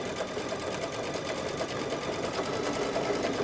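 A sewing machine runs steadily as it stitches fabric for a quilt block, giving a continuous close whir with no pauses and no talking over it.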